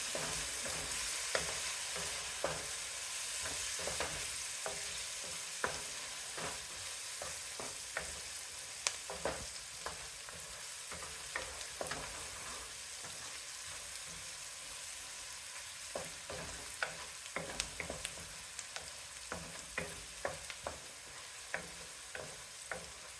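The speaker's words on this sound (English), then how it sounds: "you're going to add a tablespoon of minced garlic. I'm going to saute that for a little bit" Minced garlic sautéing in a pan for spicy sausage pasta, a continuous soft sizzle broken by frequent scraping taps of a utensil stirring, close and without speech.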